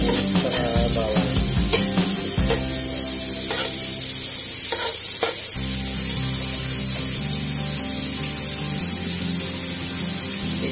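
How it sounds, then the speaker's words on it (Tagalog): Onion and garlic sizzling in hot oil in a pan for pork pata kare-kare, with steady frying hiss and occasional scraping and stirring clatter of a utensil against the pan. "Ilagay lang natin para ma-absorb ng mantika yung sibuyas sa bawang"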